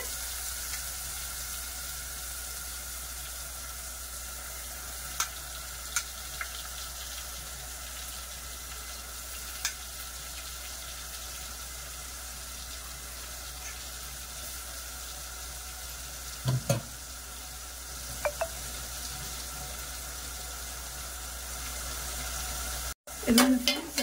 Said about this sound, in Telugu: ఇది కొబ్బరి, ఉల్లిపాయ, జీలకర్ర, ఇది ఇందులో బాగా ఫ్రై అవ్వాలండి.